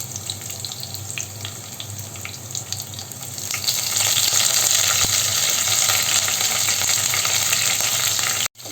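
Small shallots and curry leaves frying in a pan, a steady bright sizzle that swells louder partway through and holds, close up with no talking, ending in a sharp cut.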